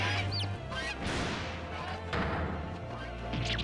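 Goose honking in The Great Ace Attorney Chronicles, a few honks and squawky bursts over steady game music with a crashing accent.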